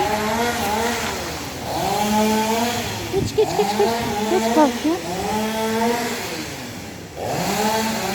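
A chainsaw prunes street trees, its engine revving and dropping in repeated cycles at close range while people talk over it.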